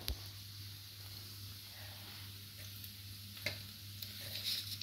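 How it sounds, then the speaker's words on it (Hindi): Onion fries in oil with a soft, faint sizzle and a few light clicks of stirring, quiet and close, with no talking. "मैंने एक प्याज लेकर उसे तेल में इस तरह से फ्राई किया है"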